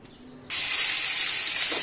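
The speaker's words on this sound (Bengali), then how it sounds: "মাছগুলো দিয়ে দিলাম ভালো করে ভেজে নিই" Fish dropped into a hot pan bursts into a sudden loud, bright hiss that stays steady and intense, following a brief quieter moment, close up with no voices.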